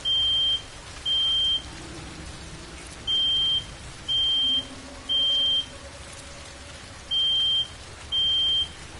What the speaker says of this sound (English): Now we got the fire alarm going off at my house because my mother-in-law must be cooking something or burning something